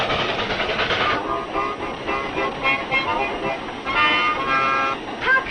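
Steam locomotive running with clattering rail and mechanical noise, broken by short bright whistle-like toots, under a mix of talk and ambient sound.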